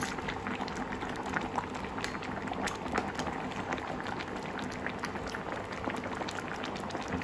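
Bamboo shoot curry boiling in a pot, a continuous, close bubbling and popping that stays even and dense throughout, with no talk.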